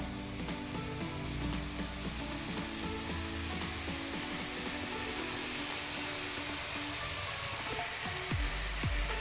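Tempering spices (oggarane) sizzle in a pan for a hotel-style vegetable saagu, a steady close crackle and hiss running the whole time with light stirring, no voices.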